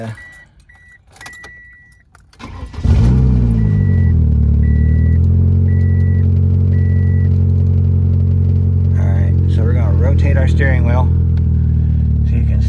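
A car engine cranks and catches, then settles into a steady, loud idle after a few chimes and jingling keys.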